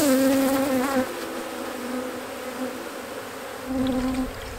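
Honeybees buzzing around a nuc hive in spring, a loud close droning hum that rises and falls as individual bees pass near, with no talk.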